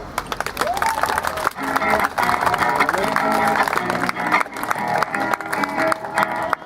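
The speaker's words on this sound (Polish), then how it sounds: "Należą się im wielkie brawa" Walking pilgrims on a Gdańsk foot pilgrimage at Ślesin applaud, a dense crowd clapping steadily for several seconds, mixed with voices and cheering.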